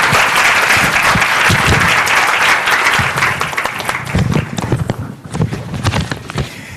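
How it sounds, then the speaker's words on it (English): Conference audience at a plenary session claps in sustained applause, loud and dense at first, then thinning into scattered claps toward the end. "Let's give a round of applause."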